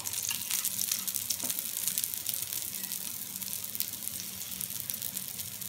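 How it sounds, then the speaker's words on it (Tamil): Adai dosa, a thick multi-dal Indian dosa, frying in oil on a hot pan, giving a steady, continuous sizzle and crackle close by, with no talking over it. "இப்போ உடனே சுற்றியில் நம்ம எண்ணெய் விட்டுடணும்."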